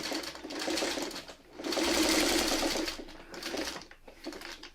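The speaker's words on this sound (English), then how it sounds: "That's all straight stitching we're going to do on here." A sewing machine runs straight stitching on a New York Beauty quilt block, close and clear, in bursts of rapid, even clatter separated by short pauses, with no talk.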